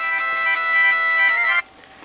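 Mobile phone ringing loudly nearby with a steady electronic tone that cuts off abruptly after about one and a half seconds, leaving quiet room noise.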